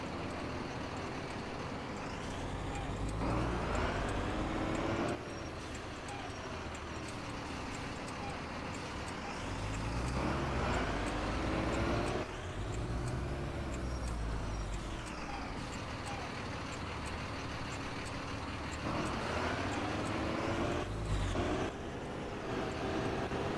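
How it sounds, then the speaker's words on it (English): A bus in a bus driving video game runs close behind, its engine a continuous loud drone with rising and falling revving sweeps over steady road rumble. "I just heard his bus and looked behind me."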